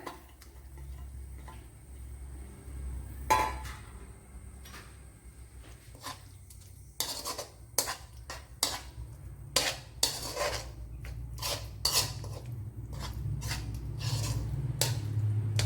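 A metal spoon stirring curd in a bowl for a bitter gourd pachadi; sharp clinks and scrapes come in irregular clusters, sparse at first, then quicker and busier, close and fairly crisp.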